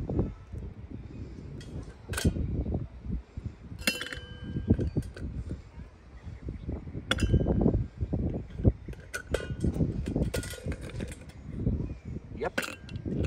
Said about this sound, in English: Let me start with the ice cubes.